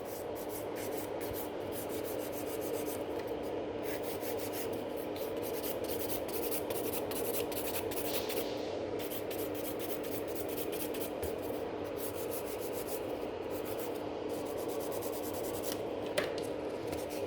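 Gel nail extensions in a sculpted coffin shape being filed with a hand nail file, a steady close scratchy rubbing that runs continuously with even strokes and no talk.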